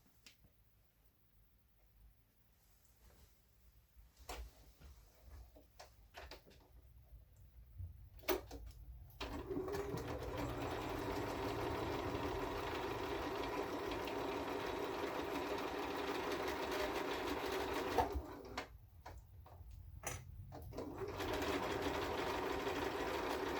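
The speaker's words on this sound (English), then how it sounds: "I'm going to go back to my machine and I'm going to stitch this 1/4 inch right here." A sewing machine stitching a quarter-inch seam to join in-the-hoop quilt blocks: brief starts at first, then a steady, close, continuous whirring hum for about ten seconds, a short pause, and a final run.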